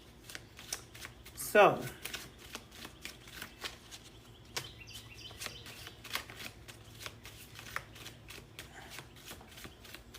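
Playing cards being shuffled by hand near the microphone during a live stream, a quick riffle burst followed by scattered soft flicks and taps, with a voice briefly speaking.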